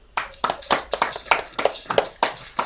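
At a virtual school assembly, a few people clap in a sparse, uneven rhythm of about a dozen close, crisp hand claps, with no voices.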